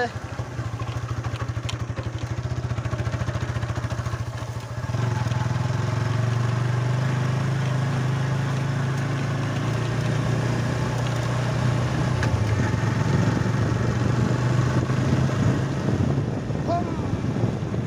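A motorcycle carries riders along a rough, badly broken village road, its engine a steady droning rumble that swells slightly as it gets going, with rattling bumps and faint voices beneath.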